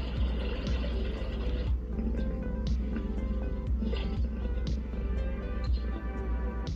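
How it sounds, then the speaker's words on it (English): Rainstorm sound from a Rossetta star projector's white noise mode: a dense, steady hiss of falling rain with scattered soft patters and clicks, constant and fairly close, with no voices. "Okay, that sounds much more like a rainstorm."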